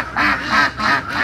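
Farm ducks give a run of four loud, nasal quacks close by in an even rhythm, with no talking.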